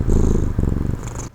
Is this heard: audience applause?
no